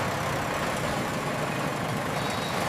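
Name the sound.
engine running at full capacity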